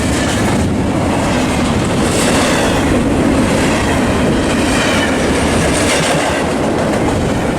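A train roars past at close range in a Fullerton railfanning setting, its loud, continuous rumble and rolling rail noise steady throughout with faint clickety-clack and no pauses.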